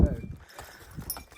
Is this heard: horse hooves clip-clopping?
yes